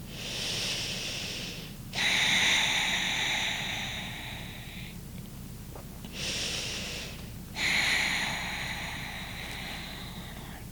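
Slow, deep breaths during a yoga hip and hamstring stretch on a yoga wheel, two long airy inhale-exhale cycles heard up close and alone, each lasting a few seconds.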